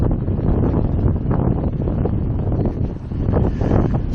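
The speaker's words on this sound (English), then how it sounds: "Yeah, it's certainly whipping." Strong wind along the Puerto Madryn boardwalk whipping flags, heard as steady loud gusty buffeting and rumbling across the microphone, with no talk.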